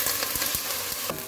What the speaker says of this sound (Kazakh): Етімізді қуырып алдық.